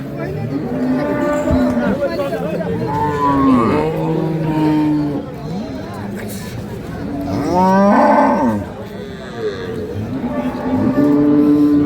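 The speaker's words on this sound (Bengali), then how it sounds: "দেখি আমরা আরো গরু আছে এই পাশে" Cows low and moo repeatedly at a village cattle market selling improved-breed dairy cows with calves. Several loud, drawn-out calls rise over a steady crowd murmur, with people talking nearby throughout.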